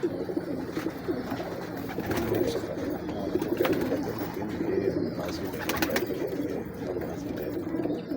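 Teddy pigeons with black beaks coo continuously nearby in a breeder's loft, a low throaty rolling murmur from several birds, with occasional faint chirps.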